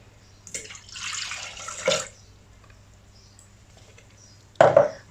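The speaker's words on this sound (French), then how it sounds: "on va ajouter l'eau" Water is poured into milk for homemade pain de mie bread dough: a steady pour lasting about a second and a half, then a brief splash or knock a few seconds later, all close by in a quiet kitchen.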